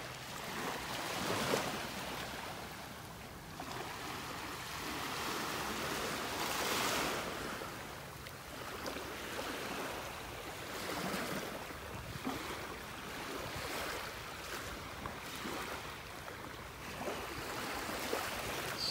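Gentle, calm surf washing onto a flat-water beach in North Naples, Florida on a morning walk, soft continuous wash with small swells rising and falling, light wind in the background, no voices.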